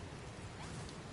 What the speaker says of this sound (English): It's so weird that it's raining here.